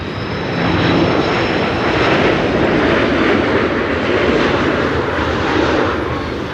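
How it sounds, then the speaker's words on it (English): A Turkish Airlines jet arriving from Istanbul at Amsterdam Schiphol in high winds gives a loud, steady broadband engine roar that swells slightly and holds for several seconds, with no talking. "This is Turkish Airlines flight 1957 arriving from Istanbul, Turkey."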